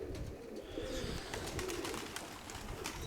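Pigeons coo in soft, overlapping murmurs amid flapping and shuffling, with a steady outdoor hum beneath.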